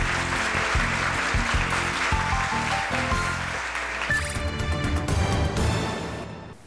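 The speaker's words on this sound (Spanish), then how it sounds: "Así que un aplauso para ellos." Studio audience applause on a quiz show for the contestants, under rhythmic background music, which shifts midway into a brighter musical sting with the clapping continuing.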